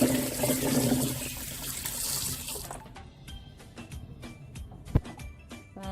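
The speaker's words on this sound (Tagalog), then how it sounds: "huhugasan ang kalabasa" Squash washed under a running kitchen tap, a steady rush of water for about three seconds, then the flow stops and a series of sharp clicks and knocks follow, one louder clunk near the end.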